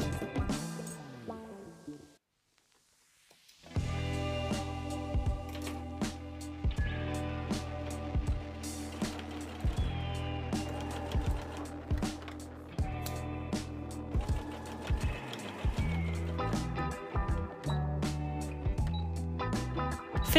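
A sewing machine stitches the seam of a bucket hat, a steady close rattle of rapid needle strokes that stops briefly near the start, then resumes and runs on with small pauses and clicks.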